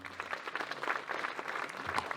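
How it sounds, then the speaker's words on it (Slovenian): A crowd at an evening concert with wine tasting claps, a soft, fairly distant patter of applause that stays even for a couple of seconds. "En aplavz."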